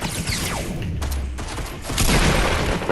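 Gunfire in Fortnite Battle Royale landing a headshot: a dense burst of sharp, close shots fills the clip, with a loud boom-like thump near the end.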